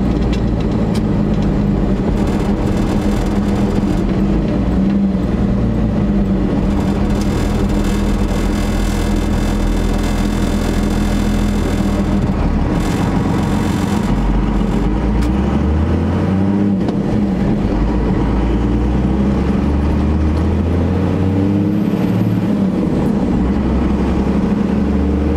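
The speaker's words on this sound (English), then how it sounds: "you just kind of drive by sound of the engine revving" A heavy first-generation Cummins diesel truck engine drones steadily, its revs rising and falling as it drives, loud and close throughout.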